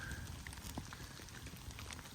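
Heavy rain pelting a tent on a wild camp by a castle ruin on a remote Scottish island, a steady dense patter with scattered sharper drops, continuous and fairly soft throughout.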